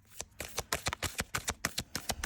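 Oracle cards are shuffled in quick, crisp riffles, about a dozen sharp papery flutters in a steady rhythm, close and clear with no voice over them.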